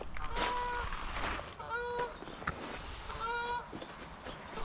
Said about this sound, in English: I do like watching the Canada geese fly overhead